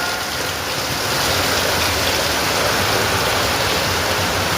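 Heavy village rain pours down during a storm in a dense, steady roar of hissing water with no pauses.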